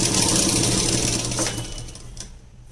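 A sewing machine runs fast and close while stitching a saree neckline, whirring steadily and loudly before slowing and trailing off near the end.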